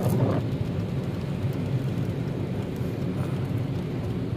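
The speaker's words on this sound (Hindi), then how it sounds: "ये देखिए सामने कैसा मंजर है बारिश का" Steady rain falls on a road in Medina, a dense, even hiss with low rumble close around, no voices over it.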